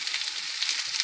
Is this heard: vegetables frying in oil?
yes